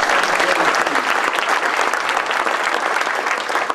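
A charity event audience applauds for volunteers who deliver meals to homebound people, a dense, steady wash of many hands clapping at close range with no talk over it.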